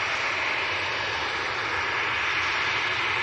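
A Ryanair jet departing Manchester Airport for Agadir, its engines giving a steady, loud, broadband roar that holds unchanged throughout with no voices.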